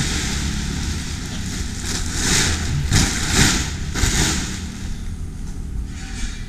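A car engine runs at a steady idle, loud and close, with a continuous low rumble and slight swells in level. No voices.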